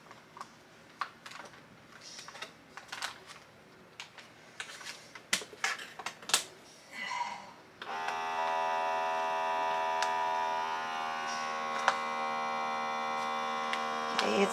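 Temu vacuum bag sealer pumping air out of a bag with a steady buzzing motor hum that starts midway and keeps going, after a stretch of clicks and plastic handling as the lid is closed.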